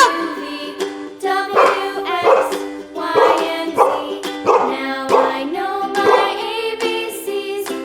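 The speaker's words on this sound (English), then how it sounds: "D for dog." A cartoon dog barks in a quick run of bright, musical yaps and bow-wows, several evenly spaced barks repeating over a steady tone, loud and close with no talking.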